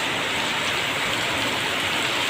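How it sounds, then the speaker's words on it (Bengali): Heavy rain pours down steadily during a thunderstorm, a dense, even hiss that fills the whole moment without pause and with no voices. "এতটা বৃষ্টি হচ্ছে আর এত বিদ্যুৎ চমকাচ্ছে"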